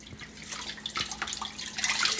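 Water drips and trickles faintly as soaked wool fleece is gently squeezed out of a bucket and carried to a bowl, a quiet run of small irregular splashes and patters without talk.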